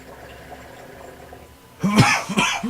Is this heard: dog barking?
no